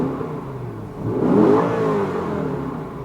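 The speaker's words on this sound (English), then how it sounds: "It's only, you know, engine sound and induction noise while you're driving." A BMW E60 M5 with its V10 engine, heard from inside the cabin as it accelerates: a smooth, rising engine and induction drone that swells to a peak and eases off again, steady and fairly loud, with no voices.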